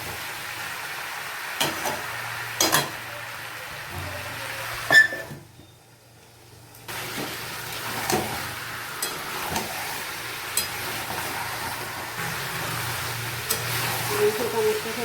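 A Bengali-style meat curry with papaya sizzles gently in a pan while it is stirred, with a soft steady fry and scattered scrapes and clicks of the spoon. A short quiet gap falls partway through, and a person talks over the cooking.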